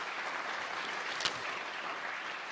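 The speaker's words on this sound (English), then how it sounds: "please show some love and give a round of applause to all the fans there" A conference forum audience applauds fans and sponsors at a diversity, equity and inclusion event, a faint, distant, steady patter of clapping throughout with one slightly sharper clap near the middle.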